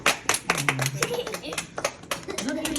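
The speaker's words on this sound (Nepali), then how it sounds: "चक्लेट खाने जति ताली बजाउनु है" A group of children claps hands in quick, uneven bursts of sharp slaps, mixed with their lively chatter and voices close by.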